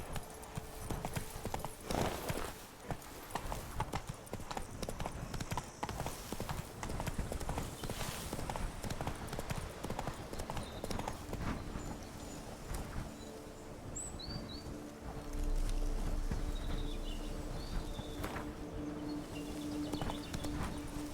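Horse hooves clip-clopping in The Witcher 3 game, a steady rhythmic trot running the whole time at moderate volume, with birds chirping in the background and a brief voice now and then.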